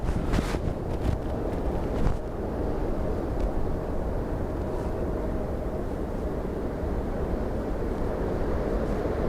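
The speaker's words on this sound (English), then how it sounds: "just to show you what the wind is like" Strong gusty wind from Storm Bram buffets the microphone at Dublin Airport, a loud continuous roar with dense low rumble and a few sharp gust spikes early on.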